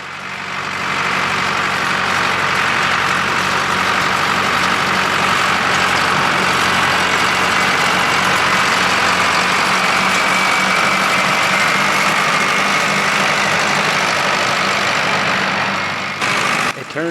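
A Ford 7700 tractor pulls a six-row field cultivator through a cornfield, its diesel engine droning loud, close and constant with a steady low rumble until a brief shift near the end.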